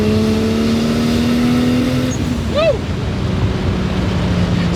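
A 1JZ-engined Mitsubishi Starion accelerates hard, its engine note climbing steadily before a gear change shifts the pitch, then pulling on again. A passenger gives a short excited whoop partway through.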